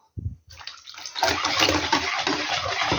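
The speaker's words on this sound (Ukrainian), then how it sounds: "додаю цю гарячу воду" Hot boiled water pours steadily and splashes into a bowl of flour for dough, starting with a few small knocks before a continuous rushing stream fills the rest.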